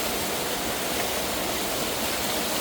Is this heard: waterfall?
yes